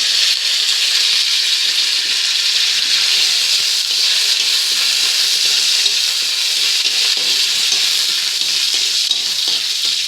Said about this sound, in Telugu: పోపు వేగిపోయిందండి. ఈ మూమెంట్లో కొంచెం కరివేపాకు వేసుకుందాం.